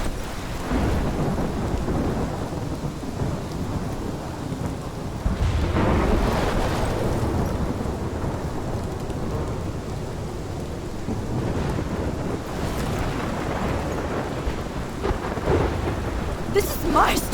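Thunderstorm in the game Life is Strange: steady rain pours under deep rolling thunder that swells in several long rumbling bursts, with a sharp crackle near the end.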